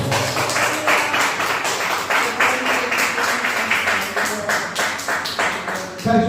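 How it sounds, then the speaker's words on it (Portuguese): A church congregation stands and claps in steady, rhythmic applause that fills the room at an even loudness, with faint voices mixed in beneath the clapping. "Se coloque de pé e dê uma salva de palmas ao nome do Senhor Jesus"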